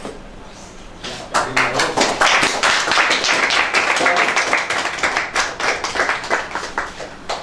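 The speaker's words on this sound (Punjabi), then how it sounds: "ਇਹ ਜਿੰਨੀ ਦੇਰ ਤੁਹਾਡੀਆਂ ਤਾੜੀਆਂ ਵੱਜਦੀਆਂ ਰਹਿਣਗੀਆਂ ਰੀਵਨ ਚੱਲਦਾ ਰਹੇਗਾ" An audience at a live magic show applauds steadily for several seconds, dense overlapping hand claps rising suddenly to a loud, sustained level with no talking.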